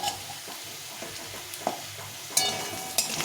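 Potato pieces frying in a pan for a rohu fish curry with potato and eggplant, a steady close sizzle with occasional scraping stirs and a couple of sharper clinks.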